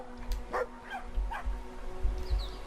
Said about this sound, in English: That dog is freaking huge.